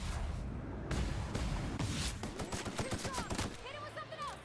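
Rapid AK rifle fire in The Outer Worlds, in dense automatic bursts, loud and close, with a voice talking during the shooting.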